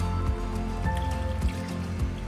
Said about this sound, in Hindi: हम इसमें पानी ऐड करेंगे।